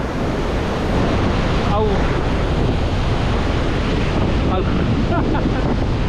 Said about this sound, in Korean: 이과수 폭포, 대단한 폭포입니다.